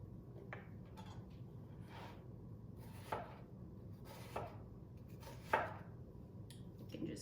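Knife slicing ingredients for a tuna stir fry on a cutting board, soft repeated cuts spaced about a second apart, a few sharper taps standing out over a low steady background hum.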